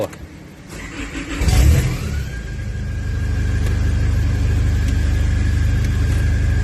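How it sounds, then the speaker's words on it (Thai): An old-model Isuzu D-Max pickup engine cranks and catches with a loud surge, then settles into a steady, close idle rumble. A high whine runs alongside the idle, and someone talks faintly in the cabin. "สตาร์ทเครื่องรถดู"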